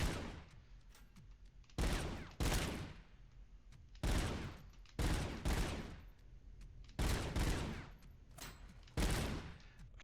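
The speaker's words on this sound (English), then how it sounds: "Some less armored fools to shoot in the face with bad guns that don't hurt me." Loud bursts of gunfire in the video game Robocop: Unfinished Business, about eight short volleys in an uneven rhythm separated by brief gaps.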